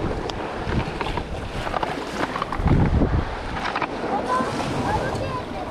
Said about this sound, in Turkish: inanılmaz dalgalı, inanılmaz rüzgarlı bir ortam var